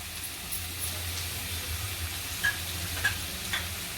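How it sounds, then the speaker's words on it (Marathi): Thecha, a chili paste, sautéing in a pan for a cluster beans sabji, a steady close sizzling hiss with faint crackles and a low background hum, no talking. "ठेचा पण परतून झालाय आता हळद घालायची आहे"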